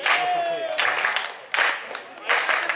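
Rhythmic hand clapping in a tavern, bursts of claps coming in rough waves amid background chatter and room noise, moderately loud and close.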